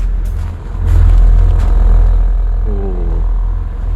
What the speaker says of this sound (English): I'm not sure if you can hear the V6 rumble.